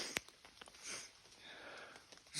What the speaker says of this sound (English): Sniffing on camera again.